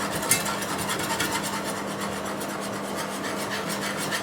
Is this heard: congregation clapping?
no